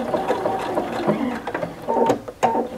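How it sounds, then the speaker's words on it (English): A sewing machine back-stitching a fabric placemat, close and continuous, its motor whirring with a quick mechanical stitching rhythm that briefly shifts pace. "And then I'm going to do a few back stitches, and I'm going to tie it off."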